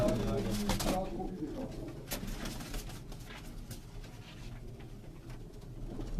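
A Firozpuri pigeon from Punjab coos softly nearby while people talk over it, with a few louder flutters or bumps early on.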